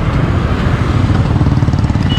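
Small motorcycle being ridden, a loud steady engine drone with rumbling wind and road noise, close and continuous without talk.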